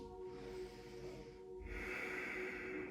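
Slow, deep breathing during a gentle yoga session, a quiet close exhale fading out, then a fuller hissing inhale through the nose, faint and alone without talk.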